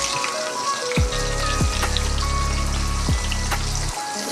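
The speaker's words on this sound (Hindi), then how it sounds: "इसको बिल्कुल हल्का सा थोड़ा सा बस रोस्ट करेंगे प्याज को।" Onions frying lightly in oil with garam masala and bay leaves give a steady, close sizzle and crackle that runs continuously, with no talking.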